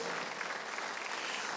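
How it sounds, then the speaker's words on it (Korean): A church congregation at a Sunday worship service claps together in a steady, even wash of applause, moderately loud and sustained for the whole moment without any speech. "박수를 치며 하나님께 영광을 돌리세요."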